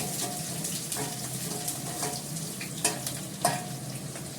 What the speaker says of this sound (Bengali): পেঁয়াজের সঙ্গে আমি আলুটাও দিয়ে দেব, আলুটাকে এর সঙ্গেই ভেজে নেব